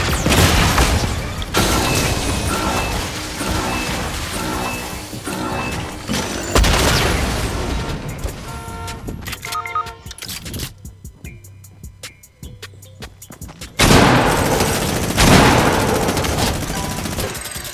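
Minigun spraying in Fortnite, dense rapid-fire bursts that come in loud waves, cutting off for a few seconds of near quiet before roaring back in another heavy stream of gunfire.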